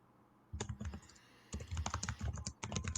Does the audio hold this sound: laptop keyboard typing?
yes